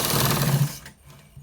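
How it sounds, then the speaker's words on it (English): A sewing machine stitches fabric for a trouser waistband in one short, loud whirring burst that stops abruptly, followed by quiet with a faint click. "So we are stitching it to the down part, the downwards part."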